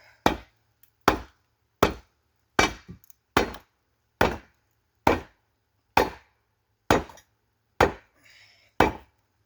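Eleven sharp, loud wooden chops strike at a steady pace, each a cracking impact of an axe or maul splitting firewood, with brief quiet between blows.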